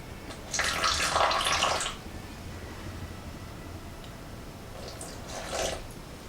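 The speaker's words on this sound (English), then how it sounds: "So just add the water in slowly, mix it slowly together." Water is slowly added to a slime mixture and stirred, giving two short bursts of wet squelching and sloshing close by, separated by a quiet pause.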